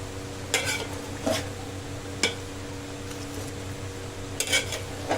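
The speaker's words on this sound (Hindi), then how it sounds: "मीडियम फ्लेम में प्याज और मटन को अच्छे से भूनेंगे।" Mutton and about a kilo and a half of onions are stirred and fried in a pot over a medium flame. A low sizzle runs throughout, broken by several sharp spoon scrapes and clinks against the metal.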